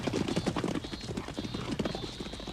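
Horses training on a track, hooves clip-clopping in a steady, busy rhythm close by, with a brief whinny and no talk.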